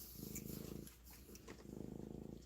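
A cat purrs up close in two soft, rhythmic rumbling stretches separated by a brief pause, low and steady with faint room noise.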